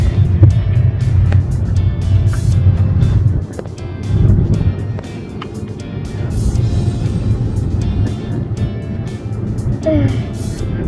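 A steady low rumble and road noise from a homemade electric car driving, fairly quiet, with faint voices and wind underneath.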